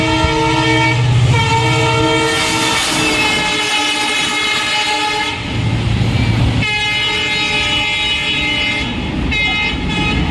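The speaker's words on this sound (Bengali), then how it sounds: "মালগাড়ি আসছে" A freight train arriving at Rajgram station rolls past with a loud rumbling clatter while its horn blares in long blasts, repeated several times, close and dominant.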